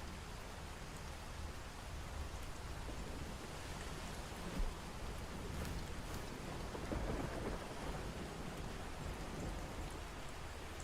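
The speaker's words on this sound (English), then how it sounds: "Which I can hear the thunder outside." Steady rain hisses outside while thunder rumbles, swelling into a deeper rolling peal midway; it sounds faint and distant throughout.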